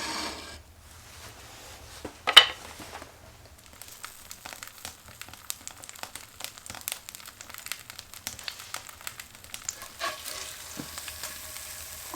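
Food frying in a pan in a workshop, stirred with a homemade metal spatula: a close, crackling sizzle with scattered scrapes and clicks of the spatula, one sharp knock early on, no talking.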